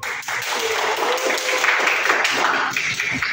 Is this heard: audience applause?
yes